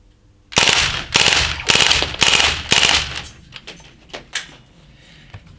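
A Crosman ST1 air gun fires full-auto, rattling out several loud rapid bursts close by, followed by a few scattered single shots and softer mechanical clicks.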